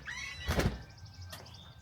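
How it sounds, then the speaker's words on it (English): An instrument case door or lid holding a Fender Bass VI is pried open, giving a loud thunk and rattle followed by a quieter creak and click, close up with no voices. "come on, door, don't be a turd."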